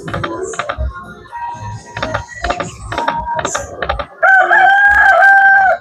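A rooster crows loudly near the end of the Crazy Chicken slot machine game, a sustained electronic cock-a-doodle-doo that follows a run of choppy clucking and jingly game sounds.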